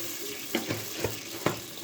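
Water runs from a tap in a low steady wash, with a few soft splashy clinks and stirs as rice is rinsed.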